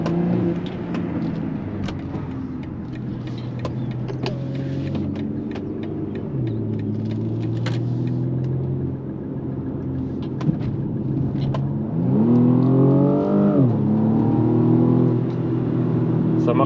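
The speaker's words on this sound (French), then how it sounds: "On a quand même une belle sonorité au niveau de l'échappement." A BMW 235i Gran Coupé with a 306-horsepower four-cylinder engine revs and accelerates close by, its throaty exhaust note climbing in pitch through the gears, then easing off.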